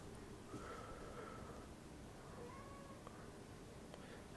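A house cat meows softly a few times indoors, drawn-out faint cries over a quiet room hum, with a brief sniff or snort in between.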